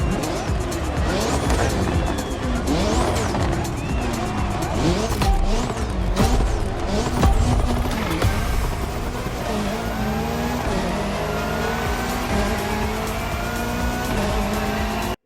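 A McLaren race car in The Crew Motorfest roars through a stretch of driving, its engine pitch rising and falling through gear changes while tires squeal and skid, loud and unbroken throughout.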